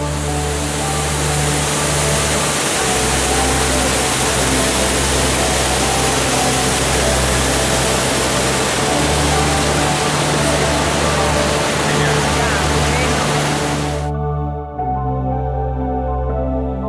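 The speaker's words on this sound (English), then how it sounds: "Now here's another awesome waterfall right by the road." Roaring water pours over the Sinks waterfall beside a road in the Smoky Mountains, swollen by recent rain: a loud, steady, broadband rush held for most of the stretch before it cuts off sharply near the end.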